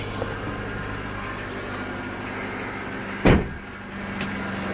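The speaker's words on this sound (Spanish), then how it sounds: "el motor ya está prendido" A car engine idles steadily nearby with a constant low hum, broken once near the end by a sharp, loud thump or clunk before the running drone continues.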